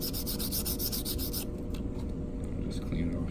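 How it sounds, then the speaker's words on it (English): Quick rhythmic scratching strokes of sanding a small coin ring, close and fairly quiet, settling into softer, irregular rubbing and light clicks. "sand it on the light one, and I rotate it a couple times as I'm sanding it too"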